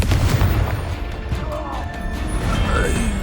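In Hogwarts Legacy, the Confringo fire spell lands as a loud, rumbling explosive blast that keeps booming and crashing for a few seconds over dense game noise, with a voice briefly heard.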